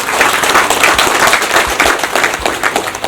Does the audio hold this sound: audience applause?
yes